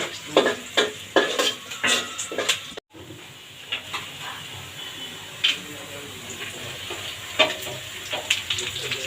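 Garam masala spices frying in hot oil for chicken curry, with a steady sizzle broken by clinks and stirring scrapes; loud at first, then quieter after a brief cut.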